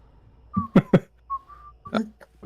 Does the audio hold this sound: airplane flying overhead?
no